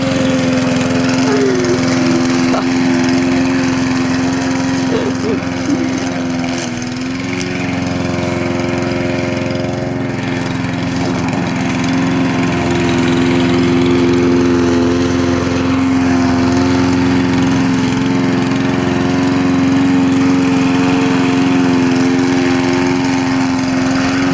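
Petrol lawn mower running steadily close by as it cuts grass, a loud continuous engine drone with a strong steady hum and no talking over it.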